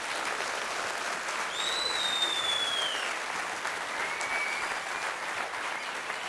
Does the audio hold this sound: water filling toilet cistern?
no